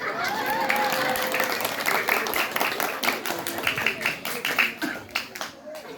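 Audience applause at a humorous Sundanese religious sermon in a village setting, a steady dense clapping that swells and thins over several seconds, with faint voices mixed underneath.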